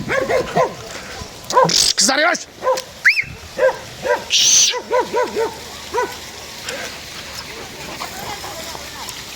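A dog barks and yips in short bursts, some closer and some farther, out among a flock of sheep by a stream crossing, with people talking and calling over it.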